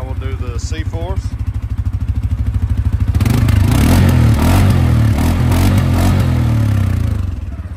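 A close 2024 CFMOTO CFORCE 500 ATV engine chugs at a rhythmic idle, then the throttle opens and it roars louder for several seconds before easing off; a voice speaks briefly early on.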